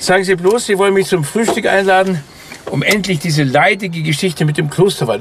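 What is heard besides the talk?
No everyday noises stand out.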